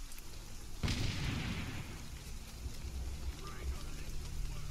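A single sharp, loud blast from the video game Shadow of Mordor lands about a second in, followed by a sustained low rumble and noisy crackle that lingers to the end.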